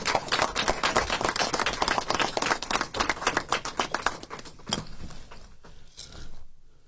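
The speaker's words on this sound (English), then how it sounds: "Let's give them a round of applause for that real quick" A press conference audience applauds with dense, steady clapping close to the mic. The clapping thins out and fades to quiet after about five seconds.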